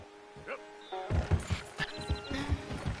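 A horse in the video game Red Dead Redemption 2, agitated while being stolen, makes a brief whinny-like call followed by rhythmic hoof thumps. A person talks over the sounds.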